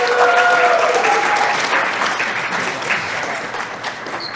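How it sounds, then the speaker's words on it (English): A conference audience breaks into loud, sustained applause that fills the room at an even level throughout, with faint voices mixed into the clapping. "Please give him a huge round of applause."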